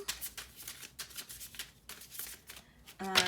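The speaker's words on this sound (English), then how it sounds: "that was just me shuffling your tarot deck off camera real quick" A Kawaii Tarot deck being shuffled by hand nearby, giving repeated rapid riffling bursts of cards in a steady rhythm, ending with a brief tonal sound.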